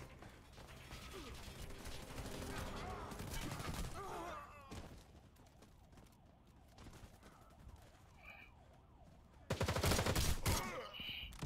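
Video game gunfire in a round-based shooter, with dense rapid bursts of shots early on and again loudly near the end, mixed with siren-like wails and mechanical clatter, fairly faint between bursts.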